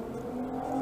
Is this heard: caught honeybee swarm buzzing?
no